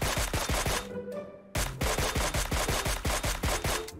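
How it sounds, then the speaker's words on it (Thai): SKS rifle fire in PUBG Mobile: a fast, loud string of sharp shots with a brief pause midway, then the rapid cracks resume at an even rhythm, with no talk. "เฮ้ยมีคนยิง SKS"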